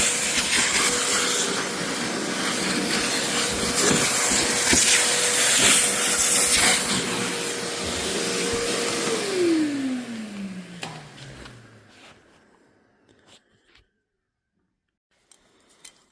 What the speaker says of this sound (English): Get loose what we can. We'll vac that up.